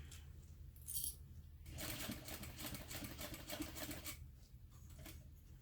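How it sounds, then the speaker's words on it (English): A sewing machine stitches back over an existing seam line on a baby garment pattern, a rapid rattling run of about two and a half seconds, close and moderately quiet, with a brief metallic click just before it starts. "I'm just sewing right back over that same stitching line"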